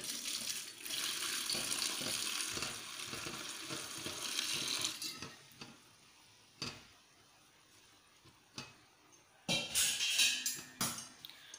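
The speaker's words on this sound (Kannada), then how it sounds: "ಈಗ ಬಿಸಿಗಿಟ್ಟ 1 ಲೀಟರ್ ನೀರಿನಷ್ಟು ನಾವು ಇದಕ್ಕೆ ಸೈಡಲ್ಲಿ ನಿಧಾನವಾಗಿ" About a litre of heated water poured slowly down the side of a pot for a Ganesh Chaturthi dish, a soft continuous splashing stream for several seconds, then faint intermittent clinks and splashes.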